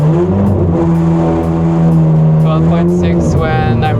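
A Ford F550 truck's engine revs in a steady, loud drone with a slight rise in pitch, and a voice breaks in briefly near the end.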